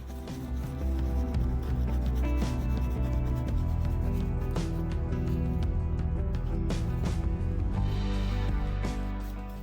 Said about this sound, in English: I'm vigorously brushing and I am scratching the surface in my desperation to try and make this nice and smooth